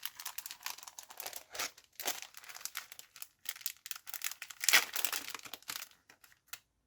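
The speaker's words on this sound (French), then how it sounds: "je vais déballer mon petit tapis" A small card-reading mat comes out of its packaging with close, soft crinkling and rustling of plastic wrap in irregular bursts, and one louder crackle partway through.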